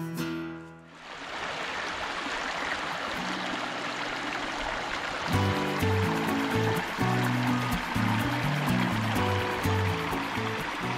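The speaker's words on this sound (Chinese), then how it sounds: "潺潺流水给人精神为之一振" A babbling stream runs steadily through autumn woods near White Sands National Park, a continuous close rush of flowing water with a brief dip near the start and faint tones layered over the later part.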